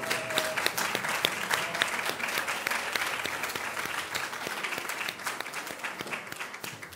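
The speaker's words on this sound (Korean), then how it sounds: "디자인상 언어술사 큰 박수 부탁드리겠습니다." A hall audience claps steadily and densely at an awards ceremony closing a Seoul National University and Maeil Business presentation competition, as the design prize is announced. The applause is sustained throughout and unaccompanied by talk.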